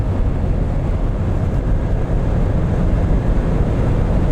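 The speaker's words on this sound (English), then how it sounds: "The wind noise is really loud." Loud, steady roar of wind noise inside a Polestar 4 electric car at about 150 km/h, a dense unbroken rush with low rumble and no talking.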